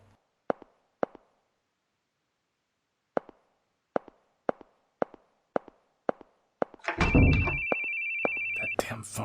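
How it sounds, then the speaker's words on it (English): A telephone rings in The Boogie Man video game, a loud sustained electronic ring breaking in after a run of sharp, evenly spaced clicks or footsteps, then carrying on to the end. "That damn phone."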